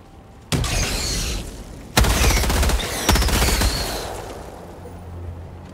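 A grenade blast and gunfire in the shooter Helldivers 2: a sharp explosion erupts, then two more loud booming bursts follow, each trailing into rumbling decay.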